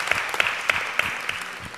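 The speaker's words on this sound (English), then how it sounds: "Give him a big clap" A church congregation claps at an informal Sunday Holy Communion service, a dense patter of hand claps that carries steadily for a couple of seconds at moderate, room-filling loudness.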